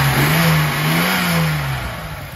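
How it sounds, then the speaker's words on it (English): Engine of a 1980 Datsun 280ZX five-speed coupe revving up and easing back, a steady close hum that swells and falls over a couple of seconds, with no talking. "Go ahead and rev it up a little bit."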